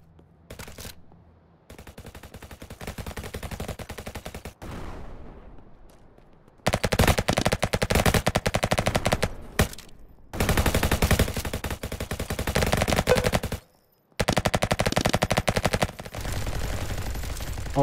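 Light machine gun fire in a Roblox first-person shooter, long sustained rattling bursts of rapid shots broken by abrupt silent gaps, loud and close with no talk over them.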